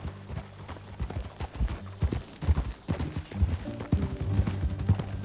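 Horse hooves clip-clop in Red Dead Redemption 2, an irregular string of close, hollow thuds at a riding gait, loudest toward the end, with a faint rumble of other game sound beneath.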